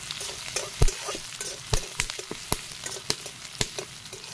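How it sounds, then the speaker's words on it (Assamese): Onions and garlic fry in a pan for an Assamese fish-and-potato curry, a steady crackling sizzle broken by sharp clinks and scrapes of stirring at an uneven rhythm, close and moderately loud with no voices. "এইখিনি এতিয়া মই ভালকৈ ভাজি লওঁ"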